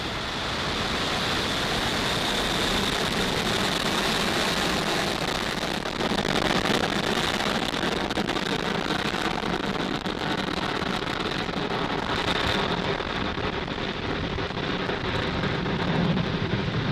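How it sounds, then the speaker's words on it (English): A SpaceX Falcon 9 rocket lifts off on a Starlink mission, its engines producing a continuous, broad, roaring rumble that stays steady and dense for the whole stretch, heard from a distance. "Ignition and liftoff."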